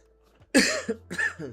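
A person recovering from illness gives a short, harsh cough followed by a second, smaller cough, close to the mic in an otherwise quiet room.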